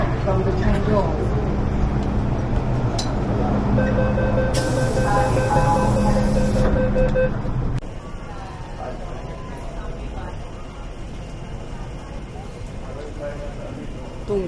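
Hong Kong MTR train bound for Tung Chung, a steady loud rumble of the running carriage with tonal motor whine, then a drop to quieter rolling noise and a recorded announcement.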